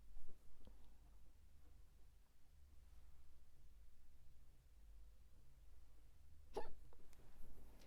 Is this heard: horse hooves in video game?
no